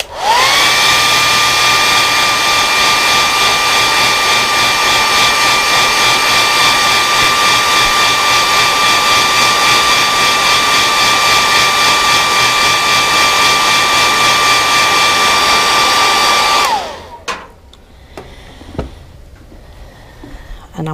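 A heat gun heat-sets paint on a fishing lure, blowing a loud, steady whine close by for about seventeen seconds before it switches off and winds down. Faint clicks and handling follow.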